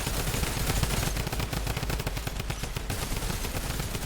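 Rapid, steady automatic fire from a Tommy gun in a Spider-Man versus Predator video game, a loud continuous rattle of closely spaced shots with a slight dip midway before resuming.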